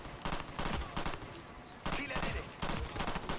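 Automatic gunfire in the video game Ghost Recon Future Soldier, loud rapid bursts of shots in three or four clusters with brief pauses between, close and dense.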